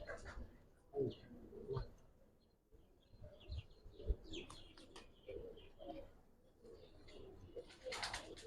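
Pigeons kept for sale at a bustling market coo softly and intermittently, the low calls mixed with scattered chirps and background bustle.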